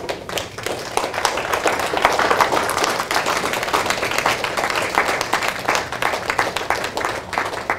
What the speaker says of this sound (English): And a round of applause for the veterans.